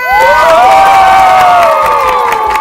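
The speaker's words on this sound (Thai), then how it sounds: "ขอตบมือต้อนรับน้องสี่ค่ะ" A studio audience at a Thai televised talent contest in Chainat cheers and claps to welcome a young contestant, a loud, continuous wall of crowd noise with shouts and a rising and falling tonal line running through it.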